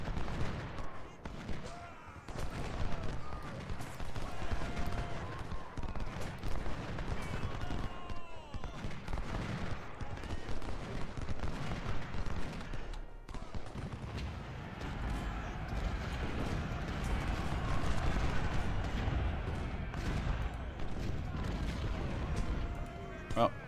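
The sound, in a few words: 20-pounder artillery firing in Ultimate General Civil War video game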